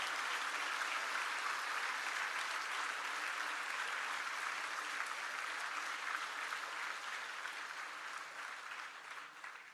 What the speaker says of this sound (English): I would request you to give a huge round of applause for all your parents.